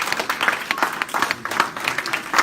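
Church congregation clapping together as dense, continuous applause-like patter, steady and moderately loud throughout, with a faint murmur of voices underneath.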